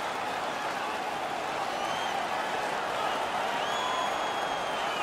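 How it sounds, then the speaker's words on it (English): A dense, steady roar of a home arena crowd at an ice hockey game in NHL 16, cheering and clapping continuously, broad and loud with faint whistles rising above the noise. "The home crowd is ecstatic."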